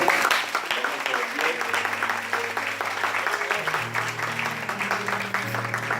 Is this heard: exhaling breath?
no